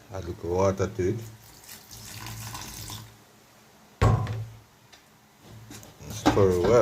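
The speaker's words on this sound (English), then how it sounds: "Add a little water to it." Water pours and splashes into a bowl of banana fritter batter in a short steady stream, between stretches of someone talking nearby.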